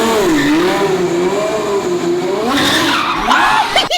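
A twin turbo Ferrari F12 slides with a loud, close, wavering tire squeal over its engine roar, building toward a rougher burst near the end.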